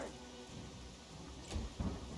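Rain and a low rumble of thunder in the Pathfinder: Kingmaker video game, a steady wash of rainfall with two heavier thumps of thunder toward the end.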